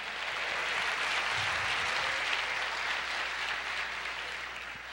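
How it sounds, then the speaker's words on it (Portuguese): Congregation at a Brazilian evangelical church service applauding steadily for several seconds, a dense, even wash of hand claps filling the room with no talk over it. "Você pode dar uma salva de palmas para Jesus?"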